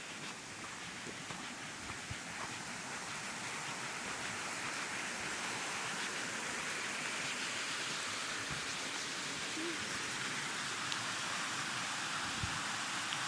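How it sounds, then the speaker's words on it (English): Small waterfall spilling where water flows out of a pond along a hiking trail, a steady broadband rush of falling water that holds constant and fairly close, with no voices. "Looks like there's a little bit of a waterfall here where the water comes out of the pond."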